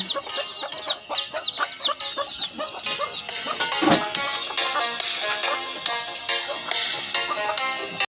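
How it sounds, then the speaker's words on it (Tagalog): Chickens on a farm cluck and squawk busily in a dense chorus as they are called in and start fighting, with sharp, overlapping calls close by throughout. "Ganito ang pagtawag ng mga kamanukan."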